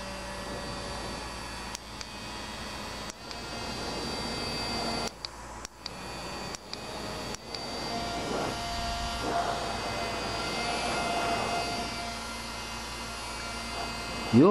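Motor of a USB rechargeable mini bladeless fan, a drone-type motor housed in its casing, giving a steady whirring hum with tonal whine that runs throughout, broken by a few brief clicks and dropouts.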